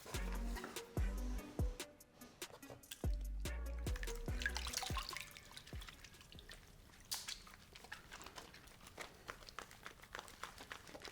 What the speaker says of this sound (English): I'm actually going to wash my hands over here, and then I'm going to have all of the lather just seep into my cup right here.